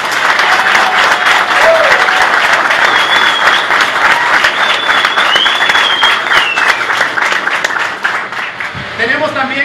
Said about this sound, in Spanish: Así que démosle un fuerte aplauso al joven Juan Gabriel Bernabé.